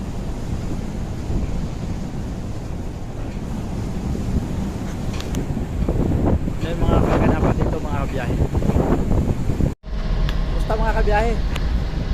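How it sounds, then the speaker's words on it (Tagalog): Strong wind and big waves at sea aboard a boat near Cape Town, a steady roaring wash of wind and surf throughout with an engine-like rumble, voices talking over it, then a brief dropout before the blustery noise resumes. "Ang laki ng mga alon at saka mahangin."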